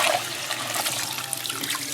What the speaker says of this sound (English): I pour out water and repeat.